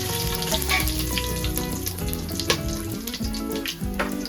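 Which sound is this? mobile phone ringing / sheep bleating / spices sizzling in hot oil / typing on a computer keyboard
spices sizzling in hot oil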